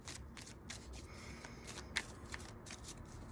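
Tarot cards being shuffled by hand, a fast run of soft papery riffles and flicks repeating steadily for several seconds, close and fairly quiet, with no talking over them.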